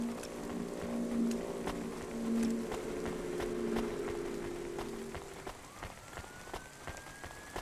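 Steady rain falls in the cyberpunk video game Cloudpunk, a dense patter with scattered sharper drops over a low tonal ambient drone, no voices.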